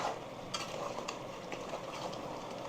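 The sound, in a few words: food frying in a pan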